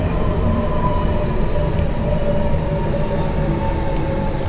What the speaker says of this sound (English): And we've got another train here.